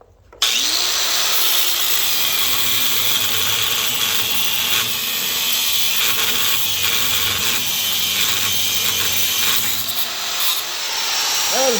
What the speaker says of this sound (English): let's see if we can cut these rivets off